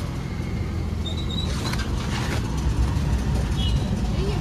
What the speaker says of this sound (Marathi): टेम्पो सुटलेला आणि चाललो.